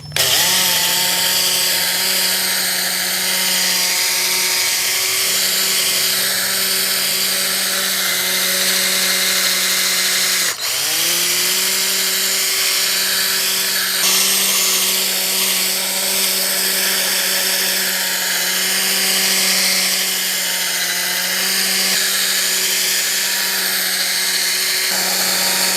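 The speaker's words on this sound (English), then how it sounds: "So since I have this buffing wheel," A buffing wheel spins steadily against a motorcycle headlight lens, a loud continuous motor whine with a harmonic hum throughout, briefly dipping in pitch around the middle as pressure is applied, with no talking.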